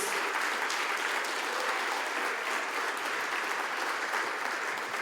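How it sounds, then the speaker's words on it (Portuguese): A church congregation breaks into steady, sustained applause, the clapping dense and even from start to finish, somewhat distant and without other sounds rising above it. "Bate palmas para Jesus"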